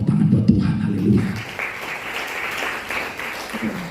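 A church congregation bursts into applause right after a voice speaks, steady clapping continuing for several seconds at moderate volume.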